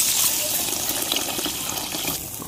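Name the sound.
water poured onto potatoes in cooking pan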